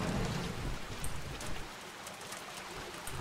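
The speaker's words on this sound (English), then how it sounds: "Electrical storm." Electrical storm in the Bioshock 2 video game, heard as a dense wash of rain-like crackle and hiss, loudest at the start with a deeper rumble, then thinning slightly with faint high sparkling bursts throughout.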